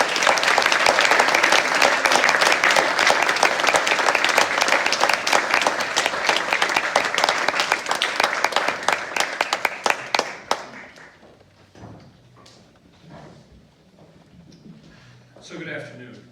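Audience in a concert hall applauding orchestra musicians, a dense, sustained wash of clapping for about ten seconds that then thins to a few scattered claps and murmurs, with no voices over the ovation.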